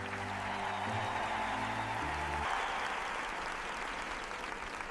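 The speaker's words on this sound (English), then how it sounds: "Finn and Nia step forward to bow together in front of the cheering crowd" An audience cheers and claps after a school play, a dense, steady wash of applause lasting several seconds, with sustained musical tones underneath at the start that drop away partway through.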